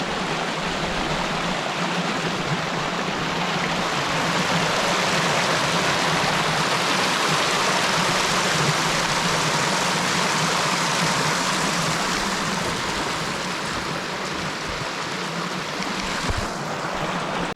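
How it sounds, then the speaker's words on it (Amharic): A river in rural Ethiopia rushes steadily, a dense, continuous wash of flowing water close to the microphone with no voices, holding an even roar throughout. "ይሄ ደግሞ ወንዝ ነው ታያችኋል።"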